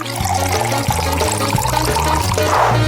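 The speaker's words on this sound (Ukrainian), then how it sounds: "Далі беремо фанту та заливаємо всередину." Fanta is poured into a makeshift glass, a loud, close gurgling liquid stream running steadily for a few seconds with bubbly splashing toward the end and no talking.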